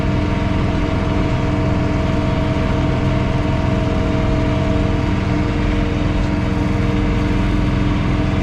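A John Deere 3 Series compact tractor runs a snow blower at night, its steady engine drone and blower whine continuous and fairly loud throughout, with no pauses or talk.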